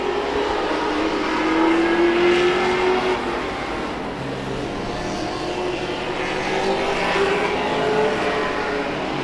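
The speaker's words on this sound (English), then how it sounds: "the final feature race here at Tomah-Sparta Speedway for 2023" Sportsman-class race cars circle Tomah-Sparta Speedway during the feature race, engines droning at a distance with rising and falling pitch as cars pass, a steady far-off roar without commentary.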